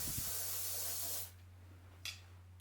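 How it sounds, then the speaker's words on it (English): Loctite freeze and release aerosol spray hisses in one continuous close burst for just over a second, then stops, followed by a brief second puff and a low steady hum beneath. "I'm going to use this freezing spray, Loctite freeze and release. Spray a bit of that on"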